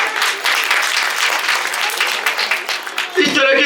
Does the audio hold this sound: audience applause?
yes